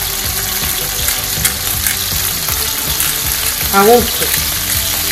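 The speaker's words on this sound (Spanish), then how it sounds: "Sofriendo el pollo, le añadimos la pimienta" Chicken pieces frying in a pan as the base for a Valencian paella, a steady close sizzle with stirring clatter throughout and a brief spoken remark near the end.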